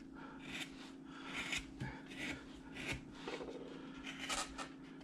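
A freshly sharpened carving tool scrapes and rasps at the wooden neck of a carved figure in quiet, close, irregular strokes.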